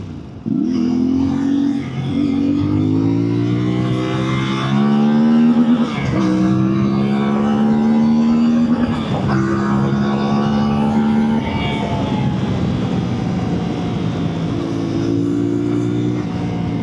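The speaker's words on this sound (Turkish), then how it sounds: "Bir motor direkt hızlanır mı lan böyle?" A CFMoto MT450 adventure motorcycle accelerates hard, its loud, close engine note rising through the gears in repeated climbing pulls with brief dips at each shift, and a voice briefly joins in.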